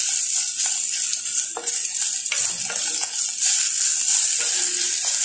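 Cooked chicken sautéed in a pan, a steady bright sizzle with scraping stirs and occasional clinks of utensil against the pan, close and continuous with no talking.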